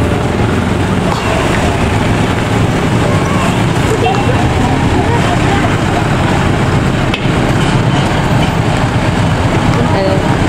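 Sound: passenger train departing station

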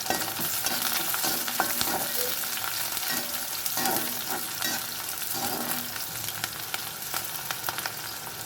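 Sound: garlic sautéing in pan for brinjal-mango curry

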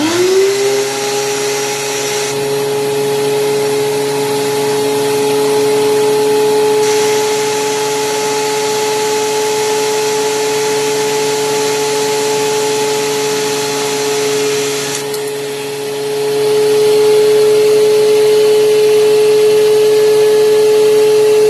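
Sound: DeWalt DW735 thickness planer running

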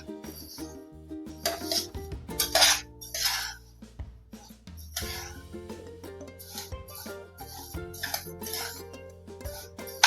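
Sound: transferring roasted rice into a pot and a plate

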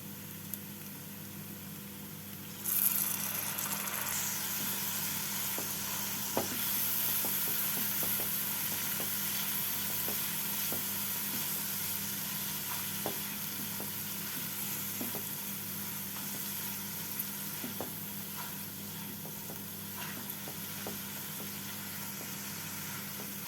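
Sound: sautéing spice masala with a little water

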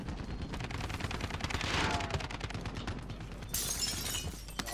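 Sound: gunfire in the video game Warzone

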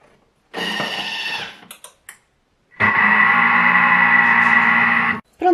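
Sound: Bimby kitchen machine kneading bread dough

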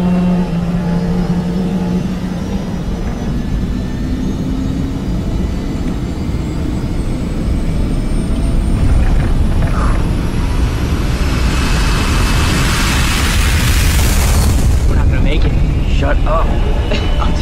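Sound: airliner taking off, in a film

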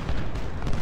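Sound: gunfire from soldiers shooting in Ultimate General: Civil War video game

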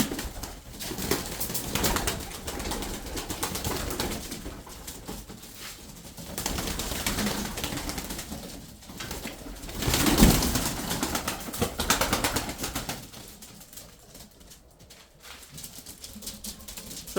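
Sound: tumbler pigeons being driven to fly

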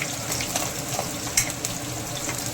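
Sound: onion frying in hot oil

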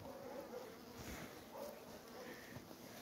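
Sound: honeybees buzzing at beehive nucleus

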